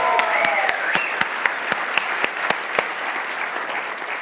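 A church congregation applauds during a bilingual French-English service with a guest pastor: dense, steady clapping with a few sharp individual claps standing out, gradually thinning toward the end.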